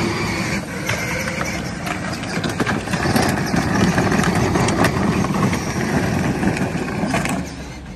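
A modified battery-powered Power Wheels ride-on car runs in second gear, producing a steady close whirring motor drone with rattling and clattering from the plastic body and wheels, growing slightly louder midway.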